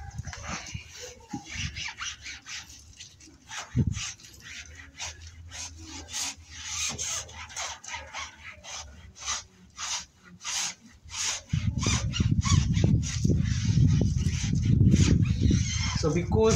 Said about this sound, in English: So you apply your tire dressing. One line per tire, you work it in. And then you rub it on.